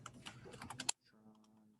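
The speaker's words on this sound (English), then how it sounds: "we're going to just type in" A computer keyboard rattles with a quick burst of close keystrokes, then a voice starts speaking.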